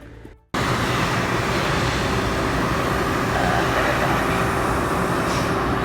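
An Okuma Multus B 750W CNC multi-tasking center with through-spindle coolant and a steady rest runs with a loud, steady whir and hum that starts abruptly and holds constant, close by with no talking.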